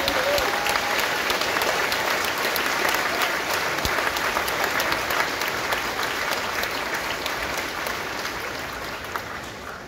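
A hall full of people applauds the award recipients at a graduation ceremony, loud sustained clapping with scattered crowd noise that holds steady for about ten seconds and eases slightly toward the end.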